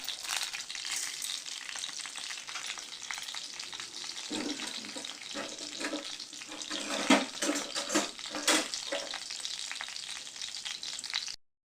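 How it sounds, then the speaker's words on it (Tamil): Chana dal and urad dal roasting in a pan over medium flame, giving a continuous close dry sizzle and rattle, with a run of louder stirring scrapes and clinks partway through. "இதில் கடலப்பருப்பும் உளுந்தையும் மீடியம் ஃப்ளேமில் வச்சு கலர் மாறுற அளவுக்கு வறுத்துக்கலாம்."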